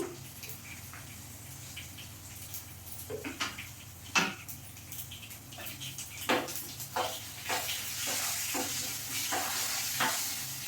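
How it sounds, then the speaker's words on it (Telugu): Mustard seeds and cumin sizzle in hot oil for gongura pulihora, a soft, close frying hiss broken by scattered pops and a few stirring scrapes that grow busier toward the end, with no speech. "ఇదిగోండి దీంట్లోనే ఒక స్పూను ఆవాలు ఇదిగోండి ఆవాలు నేనైతే కొంచెం జీలకర్ర కూడా వేస్తానండి"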